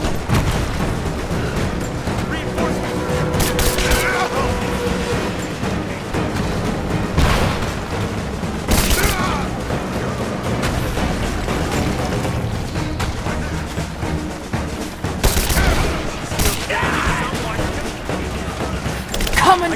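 Heavy gunfire and booming blasts fill a Rise of the Tomb Raider fight, with loud continuous shooting and several louder bursts across the stretch, and voices speaking over the combat.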